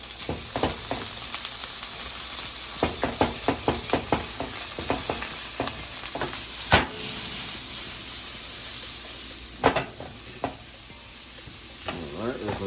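Peas sizzle in a hot pan as filling for vegan Jamaican-style patties, with a steady frying hiss and repeated close scraping of a spoon stirring, plus a few sharper clinks, with no talking.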